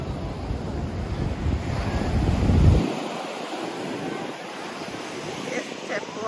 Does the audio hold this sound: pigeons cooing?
no